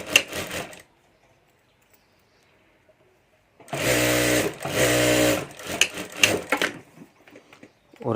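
A sewing machine stitches a zipper onto a homemade ladies' purse in two quick bursts of rapid rattling, followed by choppier intermittent stitching after a quiet pause.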